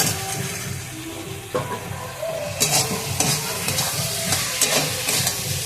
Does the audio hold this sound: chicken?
no